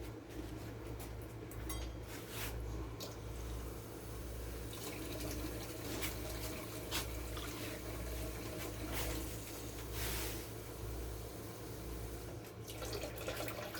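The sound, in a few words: pouring three cups of water into the pot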